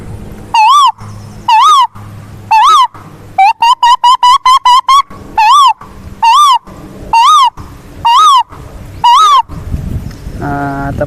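A person imitates an Asian koel, repeating loud rising whistled calls that speed into a quick burst midway, then slow again, close and clear.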